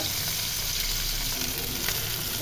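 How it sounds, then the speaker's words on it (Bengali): Two pieces of fish fry steadily in hot oil, a close, continuous crackling sizzle with no pauses and no voices. "মাছ দুইখান ভাজি করে নিচ্ছি"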